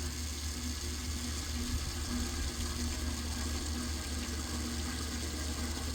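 Water runs full blast from an open valve into an 8-gallon fire-fighting tank car tank, a steady, unbroken rushing hiss that holds at even loudness for the whole stretch.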